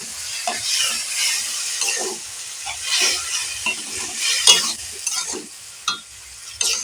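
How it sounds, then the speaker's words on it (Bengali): Ground spice paste of chilli, turmeric, ginger, garlic and cumin sizzles and fries steadily in a pan while being stirred, with scraping strokes of a spoon recurring every second or so, close and fairly loud, no talking. "এই মশলা আমি বেশ অনেকক্ষণ থেকে ভেজে নেবো"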